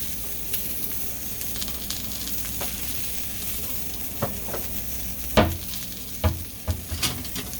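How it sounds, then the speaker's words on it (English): Italian sausages frying in a pan give a steady sizzling hiss throughout, with a few soft clinks and stirring knocks near the end and no talking. "sausages are cooking"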